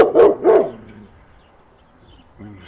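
A dog barks twice up close, loud and quick, then goes quiet before a softer grumble or whine near the end.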